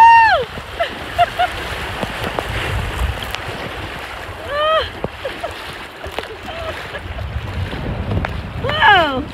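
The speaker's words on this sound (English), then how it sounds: "this is our first set of rapids on this trip" Rushing water and wind buffet a kayak running river rapids on the American River, with splashes and excited voices talking over the noise, plus bird calls chirping in the background.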